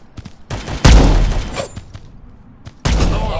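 Gunfire in the mobile shooter Guns of Boom: loud bursts of shots and thumps in quick succession, with a heavy blast near the start and another burst near the end.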